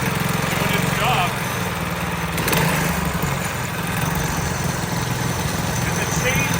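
A motorcycle engine with a torque converter idles with a steady low rumble and swells briefly as it is revved, close up, while someone talks over it.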